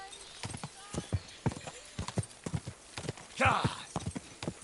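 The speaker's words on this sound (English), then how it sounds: "Pebbles is the best horse in this game" Horse hooves clip-clop in a steady walking rhythm in Kingdom Come Deliverance 2, with a brief snort or whinny partway through, moderately close and fairly quiet.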